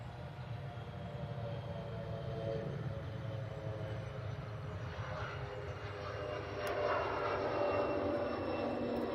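An aircraft at Manchester Airport gives a distant, low engine rumble and whine that grows slightly louder near the end, faint and steady with no talking.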